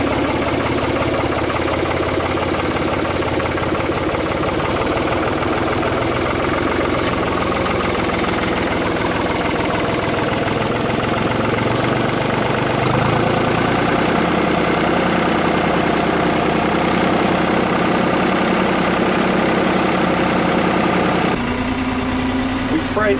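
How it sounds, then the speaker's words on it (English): A farm tractor engine idling on a farm: a steady, continuous mid-to-low rumble close by that holds evenly for a long stretch, with a faint change near the end. "Get this tractor fired up."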